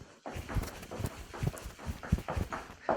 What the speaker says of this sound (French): Vous piétinez sur place.